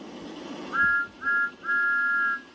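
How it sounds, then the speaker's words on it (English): A cartoon steam engine whistle blows three times, a short blast, a brief second and a longer third, clear and fairly close, each a steady two-tone pitch with no talking over it. "That's Thomas's whistle. All steam engines have whistles."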